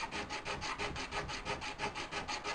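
Sandpaper is rubbed back and forth on the wood of a Morris chair in quick, regular strokes, about five per second, making a close, even rasping scrape with no talk.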